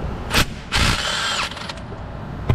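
Power tool whirring in short loud bursts while removing the crankshaft pulley bolt on a Hyundai Elantra, a brief rattle then a sustained high-pitched spin close by, with no speech.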